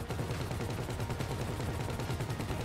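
Sustained automatic gunfire in the GTA V video game, a dense, rapid stream of shots at a steady rhythm, loud and unbroken for the whole stretch.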